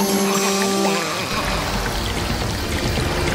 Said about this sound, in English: Dr. Spooky, turn off the water when you're not using the hose.